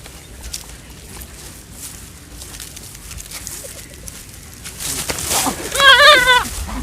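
A goat bleats once near the end with a loud, wavering cry, close by and following several seconds of quiet outdoor background rustle.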